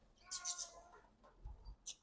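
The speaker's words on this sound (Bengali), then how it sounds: "পাখিগুলো পুরো আতঙ্কে পড়ে গেছে।" Panicked pet birds give a few sharp, high chirps in short bursts, fairly faint and close, with brief quiet gaps between calls.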